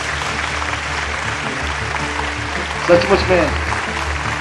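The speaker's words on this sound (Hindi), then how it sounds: "हम उस माँ के लिए ताली बजाएं" An audience at a Christian gathering in Delhi applauds the mother of a preacher, a soft, even wash of clapping under a voice as he keeps speaking.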